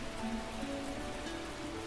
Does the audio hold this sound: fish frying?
no